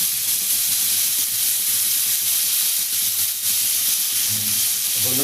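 Loud, steady sizzle of beetroot frying in a hot pan for an upperi stir-fry, a dense continuous hiss with faint stirring and clinks underneath, no talking.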